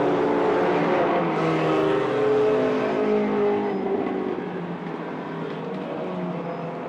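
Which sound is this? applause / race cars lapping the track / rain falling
race cars lapping the track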